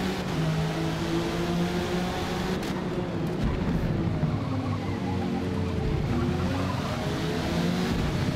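Race car in Forza Motorsport, a McLaren P1, braking hard with squealing tires over a loud engine drone, pitch shifting as it slows, close and continuous.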